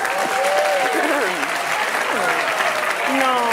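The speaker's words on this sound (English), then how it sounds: "You should probably clap." An audience at a food game show applauds steadily while voices talk and call out over the clapping.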